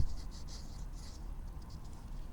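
Chalk or marker writing on a board, a few light scratchy strokes in short bursts with pauses, faint and fairly close over a low room rumble.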